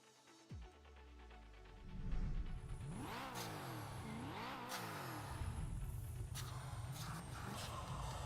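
A car in the racing video game Test Drive Unlimited Solar Crown, its engine revved with sharp throttle snaps that rise and fall in pitch several times, loud and alone over a steady mechanical whine.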